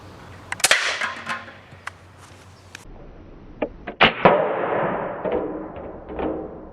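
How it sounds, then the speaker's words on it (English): A Hatsan Bullboss .25 caliber air rifle fires at a clear plexiglass sheet, giving sharp close cracks and clangs, with several distinct impacts spread across the clip and a ringing tail after the louder shots. "now we're just gonna try to shoot at the clear plexiglass"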